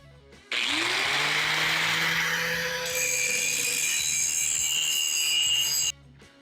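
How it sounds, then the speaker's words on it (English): Power grinder working a motor mount flat for a disc golf launcher, spinning up with a rising whine, then a loud continuous abrasive grind against metal for about five seconds before cutting off. "we're trying to grind it as flat as we can to get it to where it's parallel to the drive shaft"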